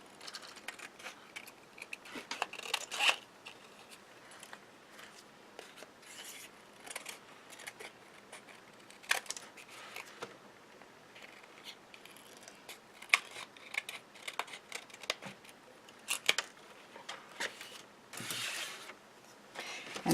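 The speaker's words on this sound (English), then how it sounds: "So I'm going to cut the transparency to also fit the inside of that" Scissors cut a clear transparency sheet for a winter card, making faint, close snips and crinkling sheet rustles in irregular bursts across a quiet background.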